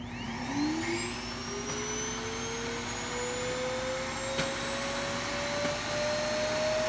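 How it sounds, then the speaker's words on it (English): A Roomba i-series robot vacuum spins up its suction motor near its base, a steady whirring drone with a rising whine that climbs gradually and then holds, close and fairly quiet. "it turns on its vacuum motor before it gets on the base"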